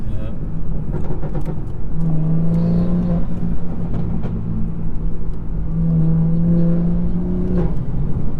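The stage 2 BMW B58 engine hums at a low, steady idle, with a droning intake note that swells twice in brief revs, under a constant rumble of road and cabin noise.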